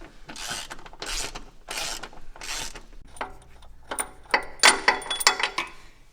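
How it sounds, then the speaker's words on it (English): A ratchet works loose the long front subframe bolts on an Audi A3, first in four even, steady bursts of rapid clicking, then in quicker, sharper ratcheting with metallic clinks close by. "Now, you're gonna remove the front subframe bolts, which are the long ones, and they go up through the arm."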